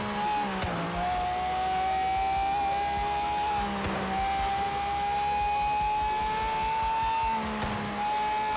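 A Pagani Zonda race car in Forza Horizon 3 drives on loudly and continuously, its engine a steady high whine that rises in pitch across each gear, broken by brief shifts and dips, with tire noise beneath.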